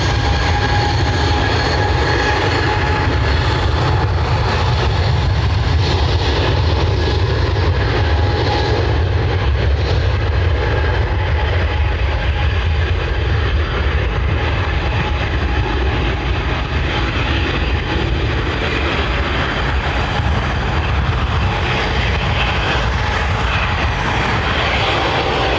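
United Airlines jet departing runway 10 at Dublin Airport, a loud continuous engine roar with a whining high tone, steady for the whole stretch, no voices.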